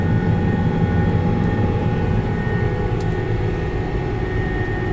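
A small aircraft engine drones at throttle with a loud, steady, close roar that holds constant throughout, with no voices.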